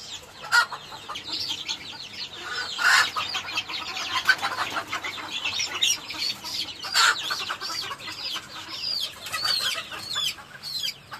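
A crowd of native chicks cheeps shrilly and constantly during eye-drop vaccination, close by, with overlapping high-pitched peeps and no talking.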